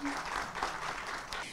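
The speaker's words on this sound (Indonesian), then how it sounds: "Tepuk tangan semuanya." Short burst of audience clapping at a startup competition event, a muffled, moderate patter of hands lasting just over a second with some voice mixed in.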